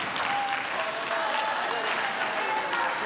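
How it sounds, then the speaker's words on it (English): A crowd at a hockey medal ceremony in an arena gives steady, continuous applause, a dense wash of clapping that holds at an even level from start to finish. "A round of applause."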